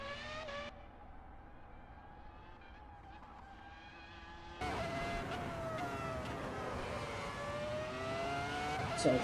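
Tires of a 2004 Formula One car squeal on pavement in a racing video game, long rising and falling screeches over the engine's steady whine, which grows louder partway through.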